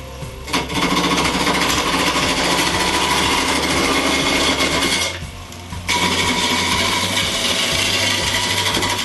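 A wooden snowman block spins on a wood lathe while being turned, giving a loud, continuous buzzing hum with rough scraping texture that drops away briefly near the middle before resuming.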